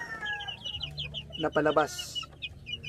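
Boston and Golden Boy Sweater gamefowl hens clucking nearby, a quick burst of clucks in the middle amid other bird calls, with a voice speaking briefly.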